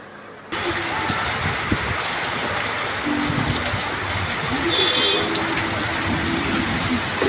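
Heavy rain pours steadily in Dharmavaram, a dense, continuous wash of falling water that holds loud and even from start to finish after a brief quiet opening.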